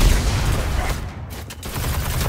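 Sustained gunfire in the Destiny raid King's Fall, a dense, loud barrage of overlapping shots and booms that briefly dips before resuming.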